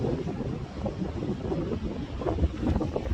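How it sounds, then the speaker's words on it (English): Strong wind gusts buffet the microphone at a beachside campsite, a continuous low rumbling roar with shifting surges and no talking. "because this wind is quite strong"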